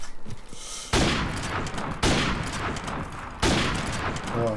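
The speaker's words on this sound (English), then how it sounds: "Where are these shots going?" Loud gunfire in Call of Duty: Modern Warfare Remastered, played as a 1v1 match, comes in three heavy bursts of rapid shots, each ringing out and fading into the next.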